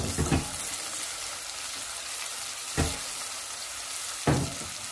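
Tomatoes fry in a pan for a sambal terasi, a steady close sizzle that runs the whole time, broken by three short louder bursts of stirring or crackle.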